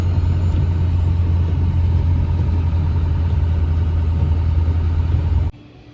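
A show truck driving through a snow storm, a steady loud low engine rumble and road noise heard from inside the cab, cutting off abruptly near the end.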